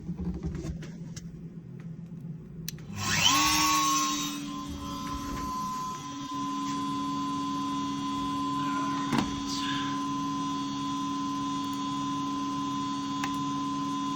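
A CNC router spins up and starts a 3D roughing pass into a piece of walnut, a sharp rising whine followed by a steady, loud machine drone with a strong tonal hum that runs continuously, with no talking.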